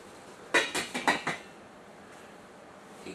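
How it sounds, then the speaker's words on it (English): A quick series of metallic clanks as a lid is set down on a pot, five or so close ringing knocks in about a second, then quiet. "Here, of course, is your cover."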